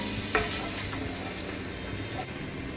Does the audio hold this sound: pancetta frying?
yes